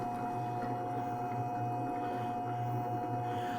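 An Efficient Kit commercial 7-quart stand mixer mixing flour for bread runs at low speed, a quiet, steady motor hum that stays even throughout.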